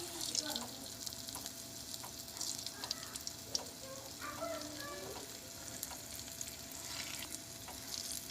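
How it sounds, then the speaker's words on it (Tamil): Balls of dahi vada batter fry in hot oil, a quiet steady bubbling sizzle with occasional light clinks of a utensil, close and alone. "இப்படி எல்லாத்தையும் போட்டு பொரிச்சு எடுக்கணும்."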